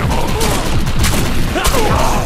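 Grenade explosion in the video game Defiance: a dense, rumbling blast with crackling, gunfire-like bursts, loud and continuous throughout.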